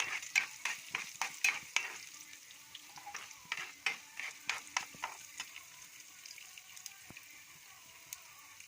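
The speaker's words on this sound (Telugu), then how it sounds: "తాలింపు అయితే ఫ్రై అవుతుంది కదా" Dried red chillies and garlic spit and crackle in hot tempering oil, a fairly quiet bed of sizzle broken by sharp, irregular pops that come thick at first and then thin out.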